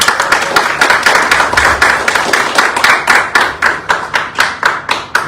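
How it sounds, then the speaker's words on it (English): An audience at an entrepreneurship challenge event gives a round of applause, a dense, loud patter of hand claps swelling and falling in quick pulses, with no talking. "they deserve a round of applause"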